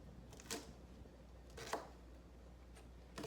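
A sharp knife chops green beans into pieces on a board, a few distinct, crisp cuts spaced apart, quiet and close with little else around them.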